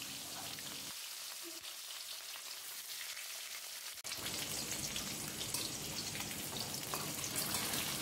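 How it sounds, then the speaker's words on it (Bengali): Fish pieces fry in hot mustard oil in a pan, giving a steady, dense sizzle and crackle that grows louder and fuller midway as more spattering sets in. "সর্ষের তেলটা ভালো করে গরম করে এবার মাছের পিসগুলো লাল লাল করে"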